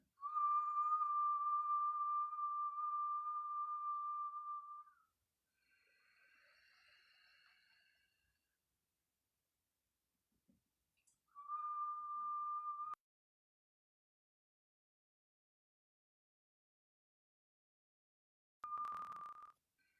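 A steady high whistle tone holds for several seconds, then returns twice more in shorter bursts separated by silence, clear and close, during a Kundalini yoga session.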